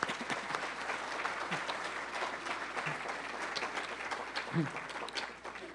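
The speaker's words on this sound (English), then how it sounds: "Let's give him another round of applause." An awards event audience gives a sponsor another round of applause, with steady, full clapping from a seated crowd that fills the room continuously and a few brief voices mixed in.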